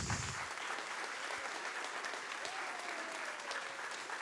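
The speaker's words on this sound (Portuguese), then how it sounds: "Vamos terminar dando um aplauso ao nosso Deus." Steady applause from a church congregation fills the whole stretch, a dense even patter of clapping at moderate loudness with no voices over it.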